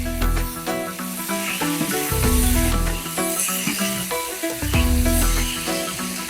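Salt, turmeric, cumin and coriander powder sizzle in a hot pan as they are stirred, a steady frying hiss with scraping strokes, over background music.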